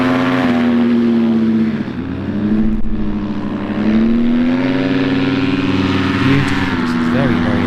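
A paramotor engine on its takeoff run at a paramotor slalom championship makes a loud, close propeller drone whose pitch dips and climbs as the throttle shifts, running continuously throughout.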